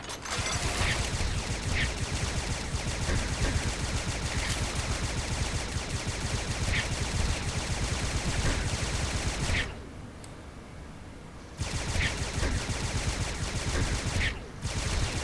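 Towers firing in a tower defence game, a continuous rapid pattering of small shots that runs on steadily, briefly drops out near the end, then resumes.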